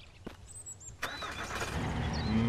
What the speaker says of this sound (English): Let's just move our car a bit close.